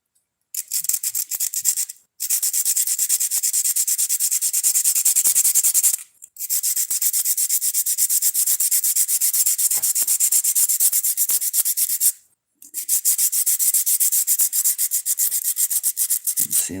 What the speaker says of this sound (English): Let me rub my hard rock a little more.